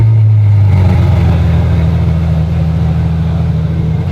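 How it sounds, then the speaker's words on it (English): A Ferrari F12 fitted with an IPE exhaust fires up, its loud starting flare settling almost at once into a deep, steady, rumbling idle that carries on close by. "that is the startup of the F12 with the IPE exhaust"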